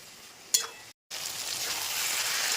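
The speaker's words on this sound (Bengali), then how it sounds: "এবার আর তিন মিনিট খুব সুন্দর করে হাই ফ্লেমে ভাজতে দেবো" Mixed vegetables and prawns frying in spice paste on a high flame, a close hissing sizzle that builds after a sharp utensil clink and a brief cut in sound.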